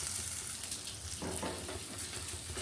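Oil and lentil dumplings (bori) hitting a pan of red spinach, a steady soft sizzle and crackle that jumps louder midway as the oil and dumplings go in, with no talking.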